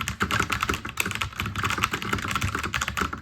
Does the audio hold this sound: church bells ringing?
no